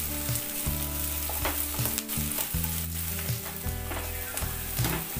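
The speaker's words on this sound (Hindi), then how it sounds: "अभी हम इसमें हरी मिर्च डाल देंगे, और इसे भी हमने लंबे आकार में काटा है," Sliced onion and long-cut green chillies sizzle steadily in a pan while a spoon scrapes and stirs them in regular strokes, heard up close with no voices.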